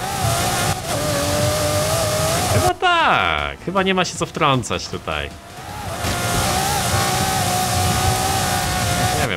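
Cars racing in Forza Horizon 5, engines droning and revving at steady speed, swelling loud then dipping briefly before returning, heard beneath continuous conversation in Polish.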